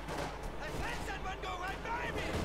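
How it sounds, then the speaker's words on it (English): A Luftwaffe strafing run in the WWII strategy game Company of Heroes 2 gives dense, steady battlefield noise with rumbling, gunfire-like bursts, mixed into other in-game sounds. "We got a strafe from being called in as well"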